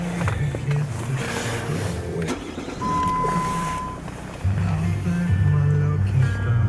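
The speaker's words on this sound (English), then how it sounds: "So let's take a seat in, start the engine." A Jeep 3.0 V6 CRD Limited diesel with automatic gearbox and 215 bhp starts up, with light clicks and a brief whine before the engine catches and settles into a louder, steady, nearby diesel idle rumble.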